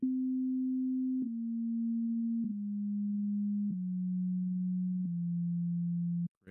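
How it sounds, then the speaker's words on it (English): A pure sine tone from a slightly detuned synth holds steady, stepping down slightly in pitch every second or so, with faint wavering, alone and fairly quiet. "the extra sine tune is actually changing the pitch very slightly"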